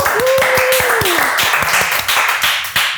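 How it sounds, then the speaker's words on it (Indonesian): Applause from an audience at an interview talk event, a steady wash of clapping over about three seconds with a brief tonal whistle-like sweep early on and faint voices mixed in. "luar biasa tepuk tangan."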